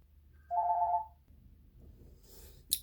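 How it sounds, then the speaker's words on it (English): A telephone rings once near a cluttered desk, a short steady electronic trill lasting about half a second, followed by quiet room noise, faint handling sounds and a brief sharp click. "Oh, hold on. I got to get the phone."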